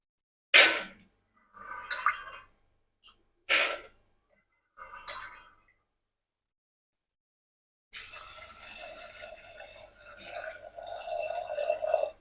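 After a few short bursts of handling noise, water pours steadily for several seconds into a pot of soaked chickpeas for boiling, a continuous close splashing stream.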